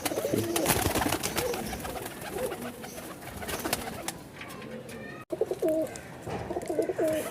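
High-flying Kamager breeding pigeons coo in repeated throaty bursts, close by, amid fluttering and handling noise, with a brief dropout partway through and no speech.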